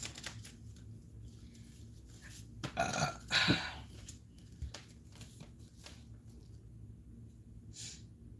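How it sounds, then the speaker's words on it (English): A person burps during a late-night live energy reading, a short rough belch rising briefly around the three-second mark, close and fairly loud against a quiet indoor room with no talking. "that I'm burping now"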